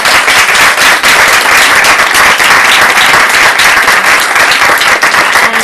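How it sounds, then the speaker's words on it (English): Loud, dense applause from a conference audience after a discussion session, a steady wash of many hands clapping for several seconds without a break. "Please, a round of applause for a wonderful"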